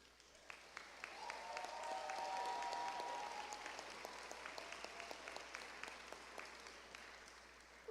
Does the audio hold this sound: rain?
no